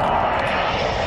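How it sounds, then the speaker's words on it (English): In the Call of Duty Warzone video game, a jet makes a precision airstrike flyover, its engine roar loud, broad and steady for about a second with no break. "Allied precision airstrike incoming."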